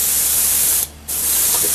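Two bursts of steady airbrush hiss, close and loud, separated by a brief pause, as paint is sprayed onto a wooden children's sword.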